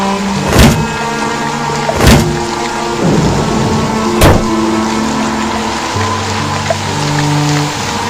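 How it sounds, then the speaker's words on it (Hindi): Heavy rain pours steadily while sharp thunder cracks strike three times close by, loud and sudden over the constant downpour. "आसमान में तेज बिजली कड़की और बारिश जो थोड़ी थमी थी, एकाएक फिर झमाझम बरसने लगी"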